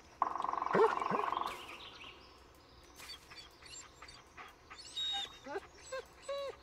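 A dog in the game Blair Witch whimpers and yips in short bursts, near and moderately loud, over a steady electronic tone and low ambient rumble.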